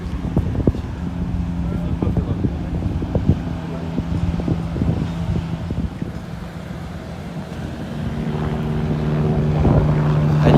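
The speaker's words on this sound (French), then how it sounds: "Hélicoptère de secours" A rescue helicopter churns overhead as a low, pulsing rumble with wind noise, partly masked by people talking nearby, growing slightly louder toward the end.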